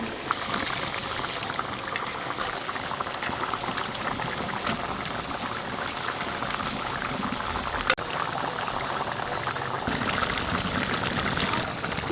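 A pot of fish curry bubbles steadily over the heat, a continuous close boiling and burbling that stays even throughout, with a brief knock partway through and no voices.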